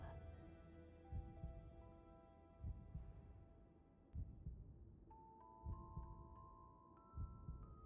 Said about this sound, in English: I hear the heartbeats.